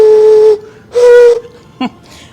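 A painted clay whistle blown in two separate short notes, each held about half a second, followed by a brief higher chirp, close and clear with no talking.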